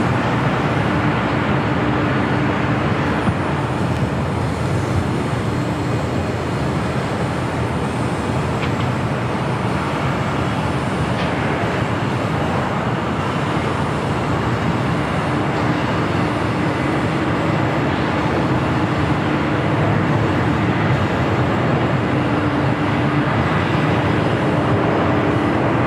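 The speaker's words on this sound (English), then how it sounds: "Delta Airlines flight 1377 heading to JFK. It's the 767-300ER. Right, clear for takeoff." A Delta Airlines Boeing 767-300ER jet takes off at LAX, a steady loud roar of jet engines with broad rushing noise that holds throughout, heard from a distance without any speech.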